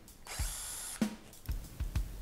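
A power drill drives screws into wooden chair seat slats: a brief high whir of the motor, then a few dull knocks and thumps as the screws seat into the wood, all up close.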